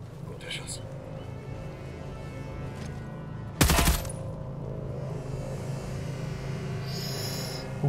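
Gunfire in a first-person shooter game played on extreme difficulty, with one sharp, loud burst about halfway through over a steady low game-ambience drone, plus some faint scattered noises.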